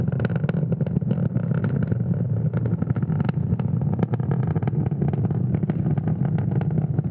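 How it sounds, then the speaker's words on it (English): SpaceX Falcon 9 rocket engines roaring during ascent on a Starlink launch from Florida, a steady, dense, rumbling roar with crackle throughout, loud and continuous with no voices. "Now we will throttle these engines back up."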